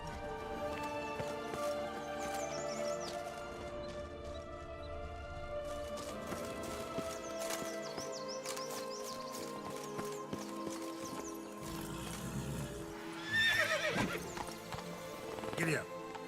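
A horse in the Witcher 3: Blood and Wine video game, with clip-clop hooves and neighing over a continuous music score and game sounds, and a burst of louder activity near the end. Voices speak at points.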